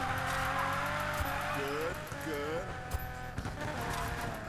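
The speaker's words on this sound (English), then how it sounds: "I'm trying to drift. This is my first time drifting on this game" A car drifting in the Need for Speed Payback racing game, with a steady engine roar and two short rising-and-falling tire squeals partway through.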